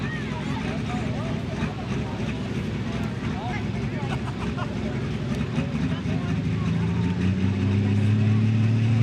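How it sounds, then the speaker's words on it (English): International tractor called All For One, driven by Annabelle Bradley at a night tractor pull in Ardmore, Tennessee, its engine roaring steadily and swelling louder toward the end, with an announcer talking over it. "Annabelle Bradley driving this international tractor right here"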